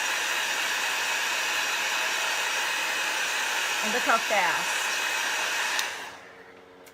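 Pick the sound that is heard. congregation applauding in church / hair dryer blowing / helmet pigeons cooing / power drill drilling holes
hair dryer blowing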